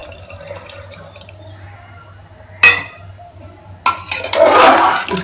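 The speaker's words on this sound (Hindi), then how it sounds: "1 कटोरी पानी डालने वाली हूँ।" Water poured from a bowl into a pan of Sindhi-style rajma masala in a home kitchen, a splashing pour with clinks of the bowl near the end, loud and close over a low steady hum.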